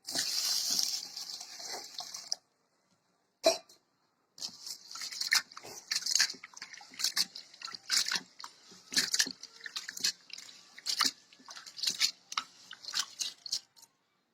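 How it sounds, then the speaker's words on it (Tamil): Water swishes and splashes in bursts as lentils are rinsed for thavalai adai, with brief pauses between scoops and stirring, close up and moderately loud. "தண்ணி ஊற்றி ரெண்டு தடவை கழுவிக்கலாம்"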